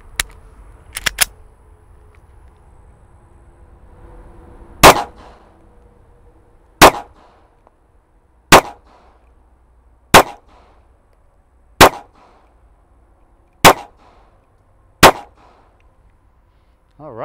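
A Remington R51 pistol fires seven sharp, loud single shots spaced about two seconds apart at a 5-yard target, each crack ringing briefly, with a couple of faint clicks before the first shot.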